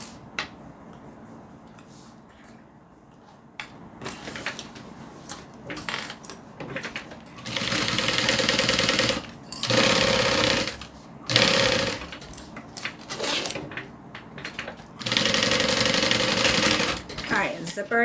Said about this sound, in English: I'm going to center my zipper up at the top and then sew that in place.